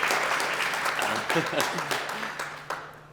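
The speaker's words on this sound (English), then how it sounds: "And also give them a little applause" An audience claps at a lecture on classical architecture: dense, close applause that starts full and gradually thins and fades, with a few louder claps near the end.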